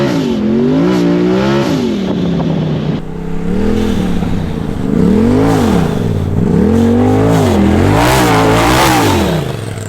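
A Polaris RZR Turbo S fitted with an aftermarket Assassins exhaust revs hard and loud up close, its engine note rising and falling in repeated sweeping blips over a steady rumbling idle.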